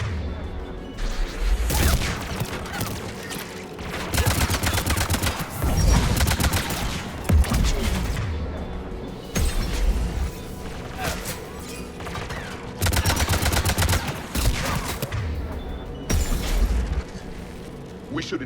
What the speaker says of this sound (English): There's the AA gun.